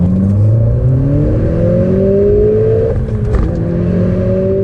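A Stage 3 tuned Audi S1 making 360 horsepower accelerating hard, its engine note rising steadily through the revs with a brief dip at a gear change, loud and close inside the car, no talk.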